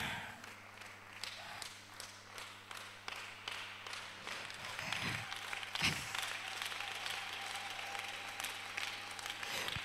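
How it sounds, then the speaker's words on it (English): A church conference audience claps in sustained applause, a dense patter of many hands that swells and continues throughout, over a steady low hum from the sound system. "Clap until he's here."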